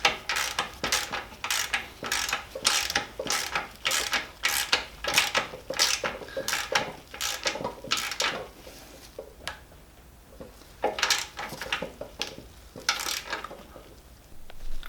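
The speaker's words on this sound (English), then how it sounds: "I've got my torque wrench now set to 45 Newton meters. Just give it a tighten up" A torque wrench tightens the lower suspension arm on a Classic Mini, a close series of quick metallic ratchet clicks in rhythmic bursts with short pauses between strokes, no talk.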